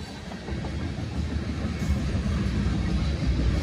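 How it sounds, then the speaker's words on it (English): A very short train rolls past outdoors on a sunny day, a continuous low rumble that swells slightly as it nears, loud and close with no talk over it. "There's the train."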